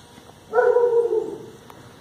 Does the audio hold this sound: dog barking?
yes